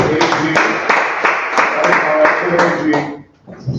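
Members of a Rotary Club at their weekly meeting applaud in a run of brisk, close claps, with a pause near the end.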